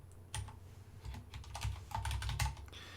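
Keys clatter in quick, uneven bursts as code is typed on a computer keyboard for a programming exercise, close and clear with no talking.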